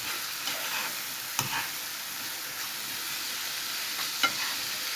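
Minced meat sizzles steadily in a hot pan while a spoon breaks it apart, adding occasional sharp scraping taps over the constant close frying hiss; no voices.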